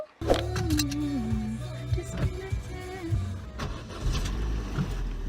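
A car drives along with a steady engine and road rumble inside the cabin, the low hum shifting as it moves, with occasional clunks and a brief whining tone early on.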